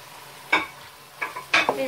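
Onions are stirred in a frying pan while cooking chicken macaroni, with three scraping, sizzling sweeps of the utensil spaced apart, close and moderately loud.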